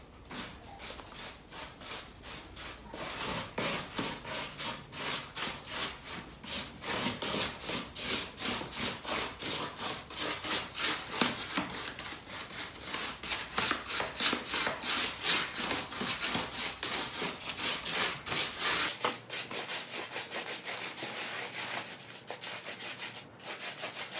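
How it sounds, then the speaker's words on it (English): Paint being brushed onto a Christmas snow village mountain platform, a steady run of rapid dry scrubbing strokes, close and fairly loud, continuing without a break and without voices. "let's go ahead and apply the paint the same way as last time"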